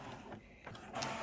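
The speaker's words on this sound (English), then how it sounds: "The first thing I'm going to do is do a print head nozzle check" An Epson ET4850 inkjet printer runs a print head nozzle check, its mechanism whirring and buzzing faintly and steadily, with a brief shift in pitch as the carriage moves.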